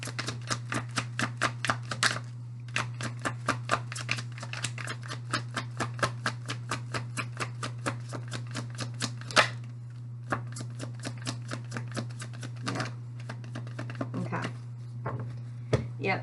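Tarot cards being shuffled and drawn for a reading, a long steady run of crisp riffling flicks and slaps close by, with a low constant hum underneath and no talking.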